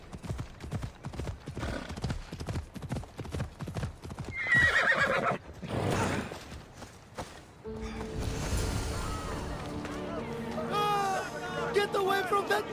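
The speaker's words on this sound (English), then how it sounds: "That looks like a good place for a horse to take shelter." Horse neighing and hoof clip-clop in Assassin's Creed Odyssey, The Fate of Atlantis DLC, with a whinny mid-clip and steady hoofbeats among game sounds, music and voices talking.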